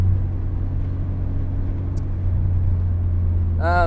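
A high-mileage Honda Civic EP3 Type R on the move, its engine a steady, loud drone from inside the cabin, with a brief rising sweep right at the end.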